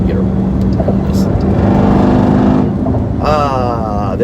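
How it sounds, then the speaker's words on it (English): Road traffic heard from inside a Jeep Trackhawk, a steady low rumble of passing cars with a rising whine near the end, loud and continuous. "There's all the traffic."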